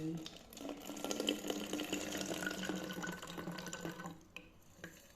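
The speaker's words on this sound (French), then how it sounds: "J'ai renversé l'eau dans mon gobelet alcalin." Plain water poured into an alkaline cup, a close running splash for about four seconds that then stops, followed by faint handling sounds.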